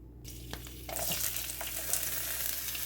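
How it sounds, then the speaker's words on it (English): Steady hissing sizzle of ginger and garlic frying in hot oil in a frying pan, growing louder after a moment, with light stirring scrapes throughout and no voices. "I'm gonna saute the ginger and garlic before I add my chicken"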